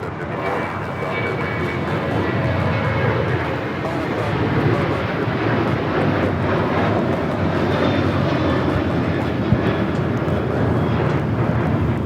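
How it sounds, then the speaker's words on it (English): A United Airlines Boeing 737-800 takes off from Los Angeles airport, a loud continuous engine roar that swells and holds for the whole stretch with wind buffeting the microphone. "That is United Airlines 1017 taking off to Phoenix on the 737-800"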